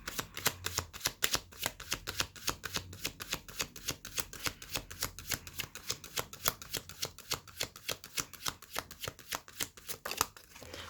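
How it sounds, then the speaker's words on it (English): Tarot cards being shuffled by hand, a steady run of quick papery riffles and flicks repeating close up for the whole stretch, with no voices. "I'm going to pull one more card, which is a confirmation of the Saturn card"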